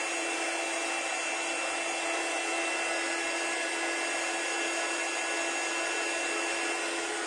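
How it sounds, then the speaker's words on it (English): A heat embossing tool blows steadily and loudly over a Christmas craft piece, a continuous broadband whir with a faint whine that holds without pause throughout. "Hold it down in a place you don't mind, and then just heat it up."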